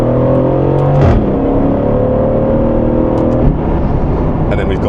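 Car accelerating as the driver clicks through the gears with paddle shifters on a country road, a steady engine drone with two sharp gearshift breaks where the pitch drops and then climbs again, close and loud.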